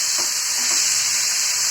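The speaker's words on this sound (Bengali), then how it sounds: "এটাকে একটু ভেজে নেবো আমি" Pointed gourd (potol) frying in a pan for a vegetarian dorma, a steady dense hiss of hot oil with faint soft stirring touches near the start.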